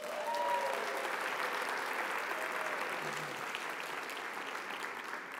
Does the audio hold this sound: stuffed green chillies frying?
no